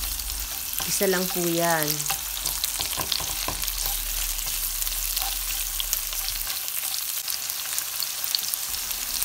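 Garlic and onion sizzling in a hot pan, a steady close crackle that continues throughout, with a short spoken phrase and a few stirring scrapes near the start.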